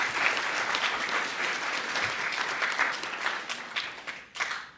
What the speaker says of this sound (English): Let's have another round of applause for the nominees and all the people who participated.